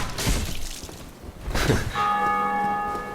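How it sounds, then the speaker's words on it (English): A bell in the Dark Souls video game rings out clearly after a couple of dull knocks, its tone hanging and slowly fading at steady loudness. "That bell ringing right there is actually another part of the multiplayer mechanic."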